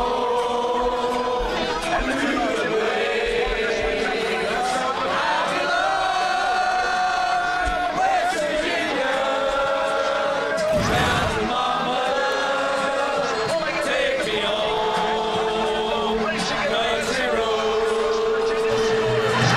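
A stadium crowd at a college football game sings and cheers loudly after a touchdown, a sustained roar of many voices with broadcast commentary talking over it.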